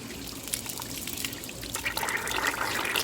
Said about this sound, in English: get some water out of here.